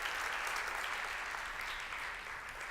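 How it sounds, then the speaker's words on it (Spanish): Steady, dense clapping from a large church congregation, loud and sustained throughout with no pauses. "Le das aplauso fuerte al Señor"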